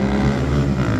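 A loud, deep engine of a Honda Twister motorcycle, fuel-injected with an 80mm piston, drones steadily, its low rumbling harmonics rising slightly in pitch toward the end, close by.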